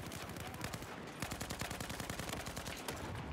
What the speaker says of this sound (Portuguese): É muito tiro pra dar, cara.